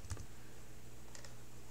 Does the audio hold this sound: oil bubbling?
no